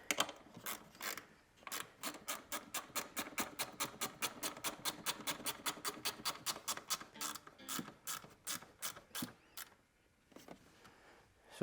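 A ratcheting hand tool tightens bolts while an OGAWA Maestro Ai massage chair is being assembled, giving rapid, regular clicking bursts that run for several seconds, pause, then resume, close and fairly quiet.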